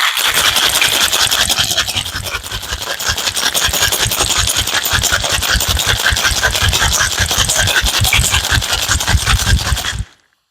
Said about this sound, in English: I'm going to shake that. We're going to get this nice and cold.